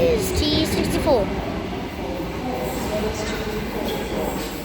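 A commuter train of two four-car sets moves through Hurstville station, a loud rolling rumble with brief squealing tones near the start, continuing steadily at close range.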